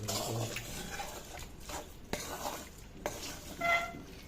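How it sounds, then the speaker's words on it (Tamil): Fried onions are stirred into the main cooking pan for bitter gourd curry, giving a soft, continuous sizzling shuffle with occasional scrapes and a couple of sharp pan knocks, moderately close. "இந்த வெங்காயமெல்லாம் நல்லா பொரிஞ்சிட்டுது இப்போ இதை எடுத்து இந்த மெயினான சட்டியில் வந்து இதை சேர்த்துடலாம் சரி இதை வந்து நல்ல கிளறி"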